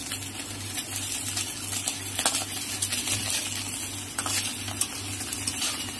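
Mourala fish frying in oil in a kadai, a steady close sizzle with crackling and faint stirring throughout, no talking.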